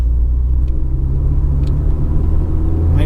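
A 1991 Volkswagen Golf II 1.8 GTI engine hums with a deep, steady rumble while driving, road noise close and constant with no speech.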